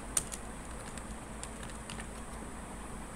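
Typing text into a spreadsheet cell on a computer keyboard, a few faint, soft key clicks over a low steady hum, with no talking.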